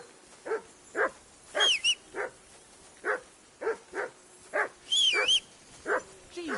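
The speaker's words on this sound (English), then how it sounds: "Jesus, Henry, that barking's driving me nuts." A dog barks repeatedly in the medieval open-world game Kingdom Come Deliverance 2, giving a steady run of close, sharp single barks at regular intervals with a couple of higher yelps mixed in.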